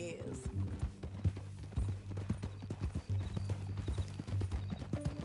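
Horse hooves clip-clop at a steady walking rhythm in the video game Red Dead Redemption 2, over a low, constant drone throughout.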